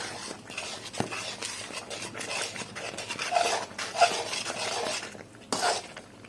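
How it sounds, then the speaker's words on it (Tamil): A spoon stirs Chettinad ukkarai sweet with ghee in a pan, giving soft scraping and occasional metallic clinks close by, with no talk. "கிளறி விட்டே இருக்கணும்."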